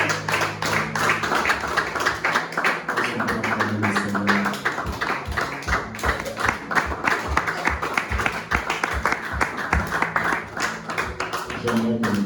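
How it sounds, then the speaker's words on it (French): Church congregation clapping in steady rhythmic unison to acclaim the Lord, a continuous crowd of hands beating evenly throughout, with murmured voices underneath. "Est-ce qu'on peut acclamer le Seigneur?"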